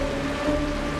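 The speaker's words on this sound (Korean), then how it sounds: "이게 바로 빗소리란다." Steady rain falling in the video game Honkai: Star Rail, an even, continuous hiss over a low hum and a sustained tone in a quiet scene, with no talking.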